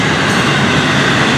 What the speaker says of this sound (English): This train, the 202, is all intermodal this morning.